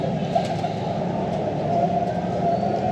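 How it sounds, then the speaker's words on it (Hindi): Breeder pigeons give soft, low, continuous cooing that stays close and steady with no pauses. "बहुत ही खूबसूरत कबूतर"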